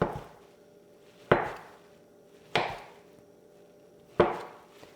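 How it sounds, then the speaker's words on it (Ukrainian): A knife chops through a block of suluguni cheese on a board, cutting it into bars: four sharp, distinct knocks spaced over about a second apart, each with a short ringing decay, close and fairly loud with no talk. "Мені треба оцей сир сулугуні нарізати на такі от квадрати. Спочатку я на бруски наріжу його."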